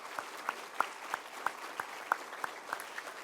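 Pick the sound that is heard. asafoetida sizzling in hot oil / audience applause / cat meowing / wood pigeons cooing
audience applause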